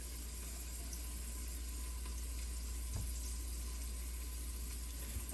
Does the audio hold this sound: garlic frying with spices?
yes